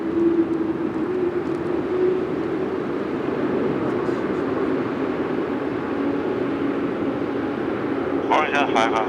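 An airliner taking off at night from Narita Airport, a steady, broad engine roar that holds throughout, heard from some distance, with a brief higher-pitched sound near the end.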